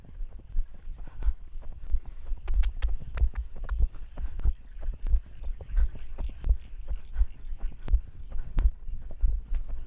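Horse hooves trot in a steady, even rhythm of thudding beats during a ride, heard up close with a faint hum underneath and no talking.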